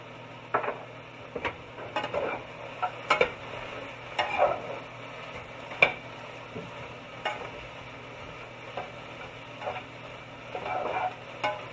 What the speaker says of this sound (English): Stir it up thoroughly.